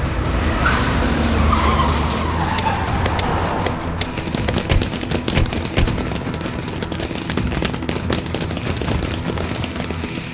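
Several cars race in and skid hard in a dramatic sound effect, tires screeching loudly for the first few seconds before a dense burst of sharp crackling impacts and rumbling engine noise that continues to the end.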